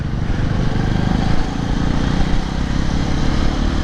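A Yamaha Tracer 700 motorcycle rides through city traffic with a loud, steady engine drone and rough low rumble, the throttle held fairly constant, close to the microphone.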